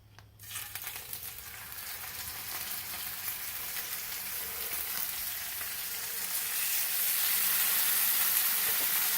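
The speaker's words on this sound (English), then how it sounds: "now it is time to cook my salmon" Salmon fillet frying in a pan, a continuous close sizzle and crackle of hot fat that starts abruptly and grows slightly louder and brighter over several seconds.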